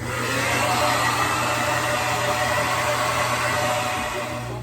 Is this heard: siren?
no